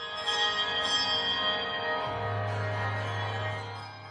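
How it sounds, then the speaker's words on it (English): A handbell orchestra chimes together in a sustained chord, a few fresh strikes ringing out over lingering tones that slowly fade. "a performance by the Glasgow Handbell Orchestra."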